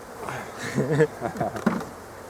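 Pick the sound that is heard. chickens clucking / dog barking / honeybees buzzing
honeybees buzzing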